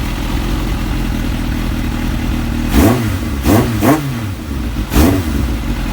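Kawasaki ZX7R Ninja sport motorcycle engine idling steadily, then blipped through four sharp throttle revs that rise and fall quickly, close and loud, with no voices.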